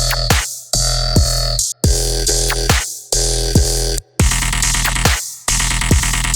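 Randomized wobble bass in Serum made with a wobble-generator MIDI pattern: loud, thick dubstep synth phrases with shifting timbre and pitch sweeps, stopping and restarting in choppy bursts, no voice.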